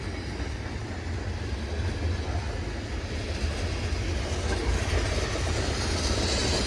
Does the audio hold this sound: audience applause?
no